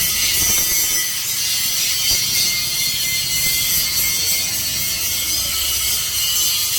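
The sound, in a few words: angle grinder grinding metal in a fabrication workshop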